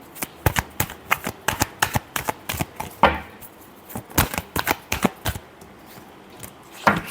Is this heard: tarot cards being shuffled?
yes